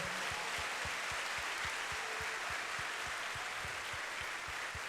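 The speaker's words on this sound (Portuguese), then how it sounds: "Pode aplaudir ao Senhor." Church congregation clapping in a steady rhythmic beat, the regular claps sounding over a wash of crowd and music noise, held at an even level throughout.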